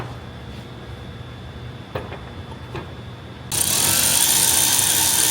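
A power tool spins bolts down on an S&B Torxz bar for a Ford Super Duty. Quiet shop ambience and a couple of small clicks come first, then a loud, sustained whirring starts abruptly and continues to the end.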